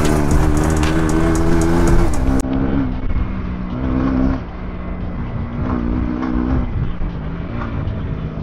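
Motorbike engine revving hard during a street chase after phone thieves, loud and close, with the pitch rising and falling as the throttle works, mixed with rushing wind and no clear speech.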